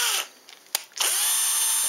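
A handheld power drill bores holes for set screws in an ornithopter part, its high motor whine cutting off and restarting in quick bursts with brief near-silent pauses, close and loud.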